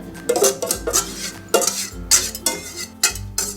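A utensil scrapes egg mixture for a ham and spinach quiche out of a bowl into a Kmart pie maker. Repeated clinks and scrapes against the bowl come in bursts, close and fairly clear.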